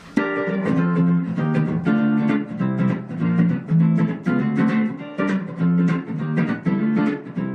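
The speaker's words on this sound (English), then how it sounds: "if I were to play that section in 4, it would sound like this" A guitar plays a steady, driving riff in an even four-beat pattern, strummed chords repeating with a rolling rhythm, loud and close with no voices.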